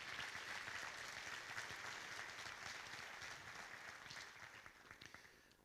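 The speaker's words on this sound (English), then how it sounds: "How about a round of applause for everybody that's contributing here today?" Audience at a scholarship presentation and celebration of life applauds the contributors, a steady wash of many hands clapping that fades gradually toward the end, sounding somewhat distant.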